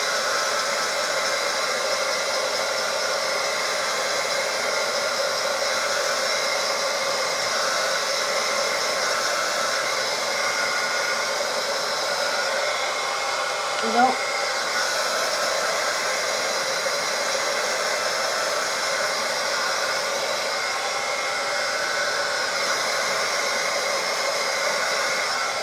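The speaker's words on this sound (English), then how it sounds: "I may hit them just a bit with the heat gun." A heat gun blows steadily and loudly for the whole stretch, a constant rushing hiss used to dry ink on craft pages, with no talking over it.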